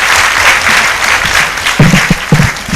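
Students at a university gold medal award function applaud in a loud, continuous burst of clapping, with a few heavier thumps near the microphone toward the end.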